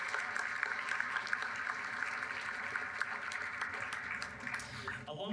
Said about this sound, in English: So be a given very round of applause